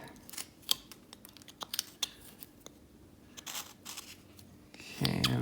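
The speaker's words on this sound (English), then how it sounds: "do the push cut towards the stop cut, like that" A knife makes push cuts while whittling a small wooden Santa Claus figure, producing quiet, close, crisp scraping clicks in short bursts with gaps between them.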